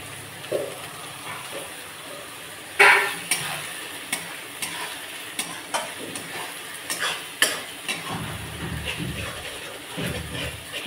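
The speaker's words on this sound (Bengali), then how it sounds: "এখানে আমি মশলাগুলো নাড়িয়ে নিচ্ছি ভালো করে" Spices with turmeric are stirred and fried in a pan for an echor (young jackfruit) recipe, with potato nearby. Soft sizzling runs throughout, broken by repeated scraping taps of a utensil against the pan at an uneven rhythm.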